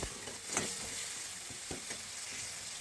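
Ground spices, ginger-garlic paste and tomato sizzle and fry in a pan, a soft steady crackle with a few scraping stirs of a spoon, close and quiet, no talking.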